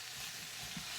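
Chunks of onion sizzle and fry in a pot while being stirred and separated during the making of a Swiss potato soup; a steady, soft hiss with faint scraping, quiet and without speech.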